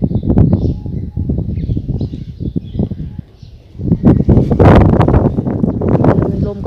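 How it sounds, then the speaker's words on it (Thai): Strong outdoor wind beside a road in Bahrain buffets the microphone with loud, gusty low rumbling that surges and dips throughout, briefly easing before swelling again. "ลมก็แรงลมแรงมากเลย"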